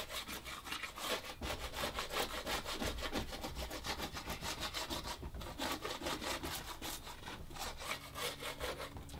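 Loose paint being scraped off patio furniture with a 5-in-1 tool: steady, rapid, rough scraping strokes that continue without a break and stay close and fairly loud throughout.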